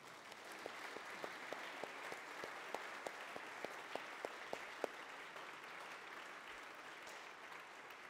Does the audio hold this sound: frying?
no